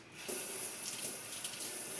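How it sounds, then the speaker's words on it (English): Tap water running while a chef knife is rinsed, a steady close hiss of flowing water starting abruptly after a brief quiet moment, soft and continuous. "I'm going to rinse it off"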